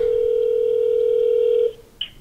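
A steady telephone tone while placing a call, one unbroken electronic note lasting nearly two seconds before it cuts off, then a brief faint beep.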